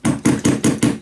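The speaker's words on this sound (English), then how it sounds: "A little hammer." A small hammer taps five times in an even, quick rhythm on a closed paper pop-up album, each blow a close, dull thud.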